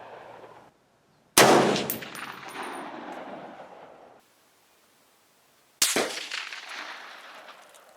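Two sharp, loud rifle shots from an M1A with iron sights, spaced a few seconds apart, each with a sudden crack followed by a long ringing decay outdoors.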